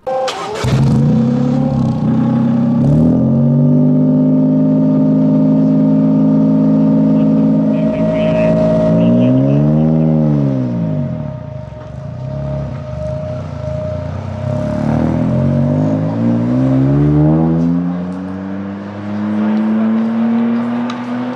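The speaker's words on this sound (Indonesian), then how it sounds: "Toyota itu berhasil ngebangun suatu internal combustion engine yang menggunakan hidrogen." Toyota car with a hydrogen-fuelled internal combustion engine revving up and down, close and loud, its engine note rising and falling in several sweeping pulls before settling into a steady higher drone.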